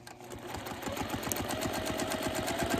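A domestic sewing machine doing free-motion quilting, its needle hammering in a fast, steady rhythm, continuous and moderately quiet close by, with no talking.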